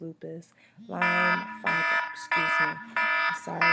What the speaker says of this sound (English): that's my alarm telling me that it's time to take my medicine